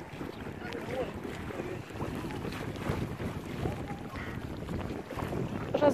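Sea of Azov at the central beach in Henichesk, heard as a steady wash of surf and water noise under strong wind buffeting the microphone, continuous and fairly close, with no clear talk.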